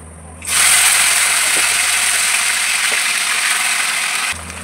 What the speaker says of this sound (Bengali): তেল ভালোভাবে গরম হয়ে গেছে, এবার মাংসগুলো তেলের মধ্যে দিয়ে দেবো।